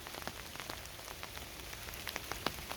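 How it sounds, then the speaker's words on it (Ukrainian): Rain patters on a surface, with scattered drops tapping irregularly over a soft hiss; fairly quiet and steady throughout. "пішов сильний дощ."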